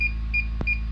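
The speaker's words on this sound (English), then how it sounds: "It start beeping." A DJI Avata drone gives a single short electronic beep after its power button is pressed, with a steady high tone and a low hum running underneath.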